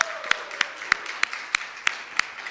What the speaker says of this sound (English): How about a round of applause for Ashley?